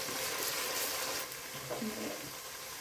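Ingredients for an Andhra-style country chicken curry fry in a pan with a steady, close sizzle that stays even throughout, and a voice speaks faintly underneath.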